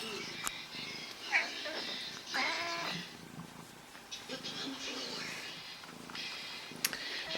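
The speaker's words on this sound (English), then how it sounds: "she's even purring." A pet cat named Daisy purrs softly close by in a quiet room, the low rumble partly masked by someone talking over it and some handling noise.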